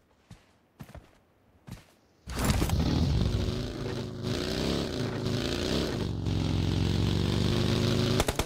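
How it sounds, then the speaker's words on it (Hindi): A motorcycle engine in the BGMI mobile battle royale game starts up after a few footstep-like thuds, then runs loud and close with a steady droning rev that holds to the end. "विक्रम बाइक में से तो आवाज आएंगी सर"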